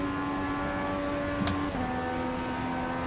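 A 1934 Ford Coupe engine in the iRacing sim drones steadily at speed, a smooth continuous hum that drops slightly in pitch partway through as if shifting, fairly quiet with no voices.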